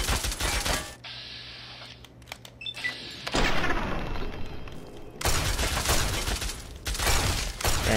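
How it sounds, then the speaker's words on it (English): Gunfire in Fallout 3, loud sharp bursts at the start and again through the later seconds with a quieter mechanical stretch between, no talk. "Still being shot at."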